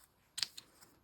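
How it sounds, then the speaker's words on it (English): Scissors snip along the white outline of a paper cardinal cut for a winter artist trading card craft: one crisp close cut, then a few fainter snips in a quiet room. "I'm going to go ahead and cut off the little white outline"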